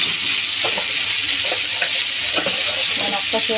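Tomatoes fry in oil in a pan with a steady, close sizzle throughout, broken by soft stirring knocks and small scrapes; no one speaks.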